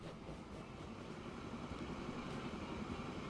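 A freight train loaded with fuel rolls into a station in the video game Transport Fever 2, giving a steady, muffled low rumble with faint rail clatter and no talk.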